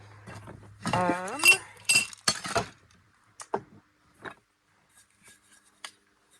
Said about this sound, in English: Cocktail glass.